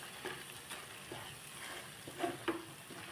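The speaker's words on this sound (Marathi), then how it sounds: "आता आपण व्यवस्थित छान परतून घेऊया." Spice masala with coriander powder sautéed over low heat in a pan for Afghani egg masala, a soft steady sizzle with a few light spoon scrapes and taps near the end.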